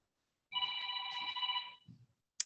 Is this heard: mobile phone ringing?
yes